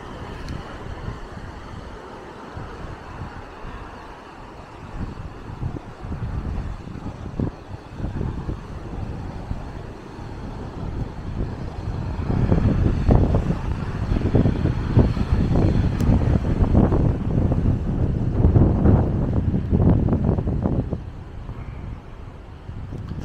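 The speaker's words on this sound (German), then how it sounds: "da kommt mir jetzt der Wind genau entgegen" Strong wind gusting across the coast at Maspalomas, Gran Canaria, buffeting the microphone with a steady low roar that swells louder through the middle of the stretch before easing slightly; no talking.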